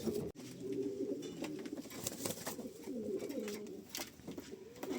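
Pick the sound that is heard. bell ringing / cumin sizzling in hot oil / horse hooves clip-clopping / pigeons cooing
pigeons cooing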